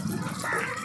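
Water runs steadily from a tap during washing, a short burst of splashing liquid.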